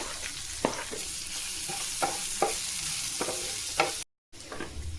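Shallots and garlic fry for a curry in a pan, giving a steady, close sizzle with occasional stirring scrapes and a brief dropout near the end.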